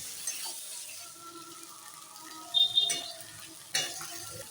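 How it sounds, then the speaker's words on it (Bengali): Rohu fish roe fries with spice paste in a pan, a low steady sizzle with a few scraping stirs and clinks, faint and close. "এবার আমি মাছের ডিমগুলো দিয়ে দিলাম মাছের ডিমটা দিয়ে আমি মশলাটা কষে নিচ্ছি"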